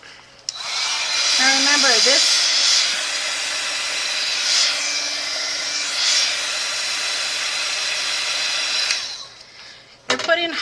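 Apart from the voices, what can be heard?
hair dryer blowing hot air on glue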